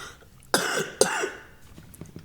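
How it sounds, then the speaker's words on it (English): Two sharp coughs in quick succession, close and loud, followed by quieter throat sounds. "Sometimes when you cough, you always cough twice in a row"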